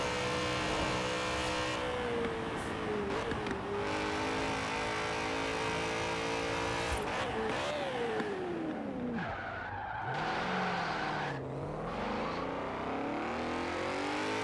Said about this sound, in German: lasst mich ganz kurz mal noch ein paar Kurven fahren